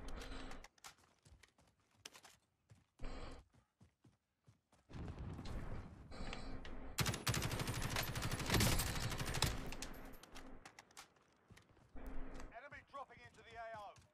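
Gunfire in the battle royale game Call of Duty Warzone, with bursts of rapid automatic shots and single cracks, including a long sustained volley, loud and near under a player talking.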